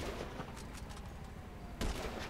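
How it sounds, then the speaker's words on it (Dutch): A sniper rifle fires in GTA 5 Online. One sharp, loud shot cracks near the end over a dense, noisy game background. "Oh, wacht, we hebben sniper. We gaan hem proberen te snipen."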